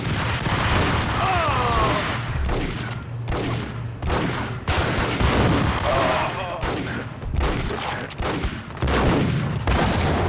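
Grenade explosions in a Max Payne game come amid constant loud gunfire, with heavy booms and rattling shots over dense battle noise and almost no pause.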